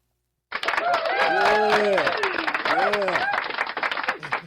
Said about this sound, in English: Go ahead and give him a cheer.